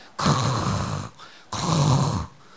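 A voice imitates exhale snoring with two long, rasping, rumbling breaths, each lasting nearly a second, loud and close, separated by a brief pause.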